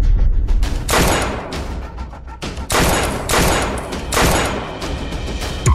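Dense bursts of gunfire crack in rapid volleys during a tense street confrontation, loud and close, with brief gaps between heavy rolling salvos.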